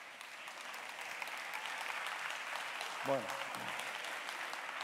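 A studio audience claps steadily and loudly to welcome a journalist onto the stage at a Spanish technology talk event, filling the whole stretch while a voice briefly speaks over it.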